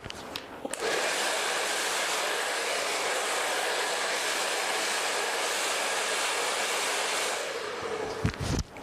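A blow dryer runs steadily at close range, drying the lengths of curly hair, with a constant loud whooshing airflow for most of the clip before it switches off near the end.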